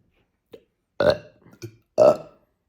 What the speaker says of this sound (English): But I can burp on command